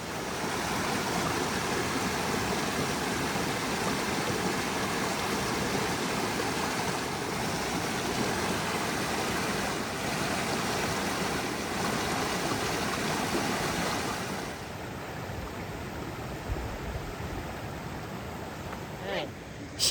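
Rush Creek on the John Muir Trail rushes steadily with a dense, continuous water roar, close and loud for most of the stretch, then quieter and more distant near the end.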